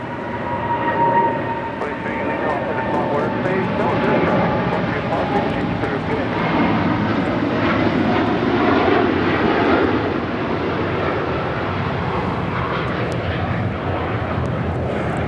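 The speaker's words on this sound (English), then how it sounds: "This is KLM 602 taking off to Amsterdam on a 787-10 Dreamliner." A KLM Boeing 787-10 Dreamliner takes off from LAX with a steady, close jet roar that runs throughout, and a voice comes through over the engine noise.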